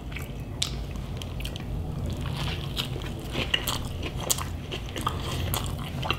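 Close-up chewing of an Impossible Burger and a beef Whopper, with repeated moist crunchy bites and squishy mastication over a steady low background, no talk.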